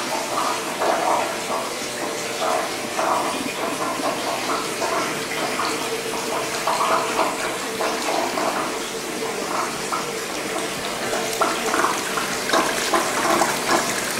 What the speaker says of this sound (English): That's my shower.